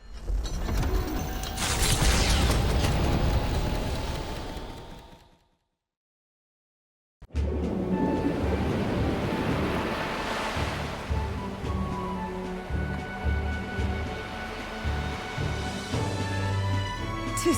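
Ocean waves surge and wash around a ship sailing the open sea in the video game Metaphor: ReFantazio, a broad, steady rushing roar that cuts out briefly and resumes with a low musical drone beneath.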